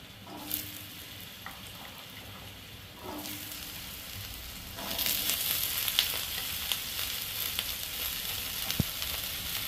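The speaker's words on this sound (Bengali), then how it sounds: "দেখুন তেলটা গরম হয়ে গেছে, এখন আমি তেলে এই যে কুচিয়ে রাখা ছোট করে কেটে রাখা আলুগুলোকে দিয়ে দেবো।" Chopped potatoes hit hot oil with a quiet start, then a loud, steady sizzle that swells midway and carries on with occasional clatter, no voices.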